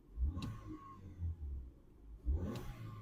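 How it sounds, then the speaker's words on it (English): A 2004 Ford Fusion 1.4 petrol engine revved twice in neutral, each blip rising sharply then falling back to a low idle rumble, recorded close by with no talk. "Give it a little rev then for you."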